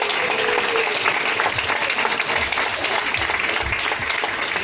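An audience at a farewell mini-concert for an FC Volendam player applauds a singer, a loud, continuous wall of clapping from a large crowd, with a few low thumps beneath and no speech.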